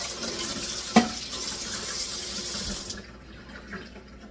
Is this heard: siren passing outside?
no